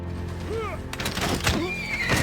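A horse archer unit in the strategy game Civilization VI whinnies, with a rising and falling neigh followed by hoof-like thuds and another whinny against steady game background sound.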